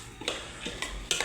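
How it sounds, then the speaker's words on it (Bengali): Curry with papaya and lentils stirred in a pot: a short run of soft scraping and clinking strokes against the pot, fairly quiet and close, with no talk. "এখন একটু নাড়াচাড়া দিতে হবে"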